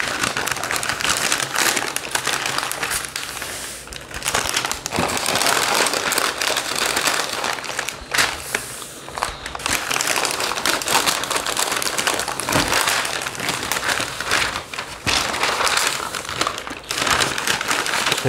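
Wrapping is folded and tucked around smoked beef plate ribs, giving loud, continuous crinkling and crackling close to the listener for the whole stretch, with no talking.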